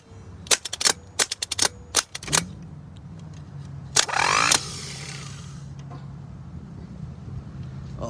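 An old truck with a failing starter gives a burst of sharp clicks and clacks, then a brief grinding whir as it tries to turn the engine, followed by a low steady hum.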